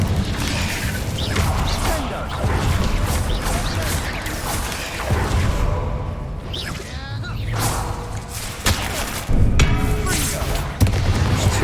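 Bombarda spell blasts in Hogwarts Legacy combat burst as repeated booming explosions and crashes among clanking mechanical effects, with a player's voice calling out over the fight.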